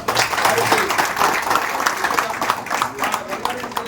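An audience claps at a birthday celebration for a jewellery business owner: dense, continuous applause, fairly loud and close, with voices mixed in underneath.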